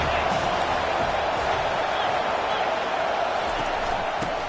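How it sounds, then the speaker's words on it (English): A stadium crowd roars in the College Football 25 video game during a third-and-long defensive play, a dense, steady wall of cheering that holds at constant loudness throughout, with no clear words spoken over it. "Defense getting a boost from this crowd on 3rd and long."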